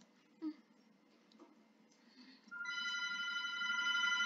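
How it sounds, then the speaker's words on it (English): A phone rings in a video game, a steady electronic ringtone starting partway through after quiet low background sounds, fairly faint overall. "Guys, the phone is ringing."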